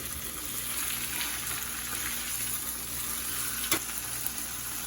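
Steak sizzling and frying steadily in a pan after being flipped, a continuous bright crackling hiss close by, with a brief clatter near the end and no talking.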